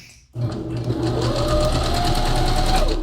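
A sewing machine stitches a sleeve seam in stretch fabric, starting abruptly after a brief pause and running as a fast, even, close mechanical whir.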